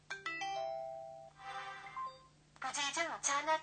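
Incoming-call ringtone of a Motorola RAZR MS500 phone: a short electronic melody of clear beeping chime tones, followed by a synthetic voice speaking.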